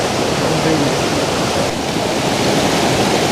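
Constant roaring rush of a waterfall near the Rainbow Bridge, a dense, even wash of falling water at close range with no breaks.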